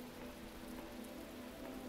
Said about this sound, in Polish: Ten deszcz jest trochę upierdliwy.